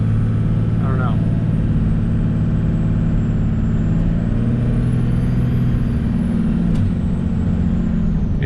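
A 24-valve Cummins diesel truck with a 47RE automatic transmission drives along steadily, its low engine drone loud and close throughout, with a faint brief hiss partway through.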